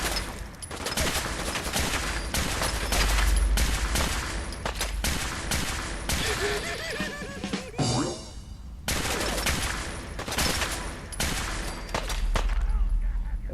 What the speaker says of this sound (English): Is it funny I'm using a radiation weapon on Jules?